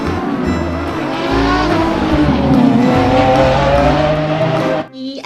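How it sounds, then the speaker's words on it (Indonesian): Race cars roar loudly past in a dense, continuous rush with hints of tire squeal, ending abruptly. "Oh, lihat, ada mobil. Ini ada mobil balap."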